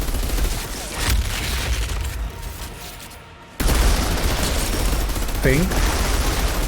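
Dense, rapid weapon fire from the video game Outriders rattles in continuous bursts, cutting out briefly and resuming loudly, with a player's voice occasionally heard over the shooting.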